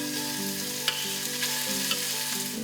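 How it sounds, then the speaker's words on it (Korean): Meat fries in plenty of hot oil in a pan over high heat, a close, even sizzle and crackle with a few small pops, no voices. "튀겨질 정도로 기름이 뜨거워졌을 때 고기를 넣고 옆면이 어느 정도 익으면 뒤집어준다"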